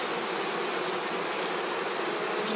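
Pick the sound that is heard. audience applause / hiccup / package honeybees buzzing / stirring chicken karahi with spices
package honeybees buzzing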